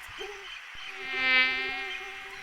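Night-active malaria-carrying mosquitoes buzz in a high, thin whine that swells louder around the middle as if passing close, then settles back into a steady hum, with no voices.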